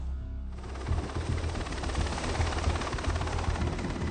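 A helicopter flies toward the southern border, its rotor thumping steadily beneath a loud, continuous engine and turbine roar that stays close and even throughout.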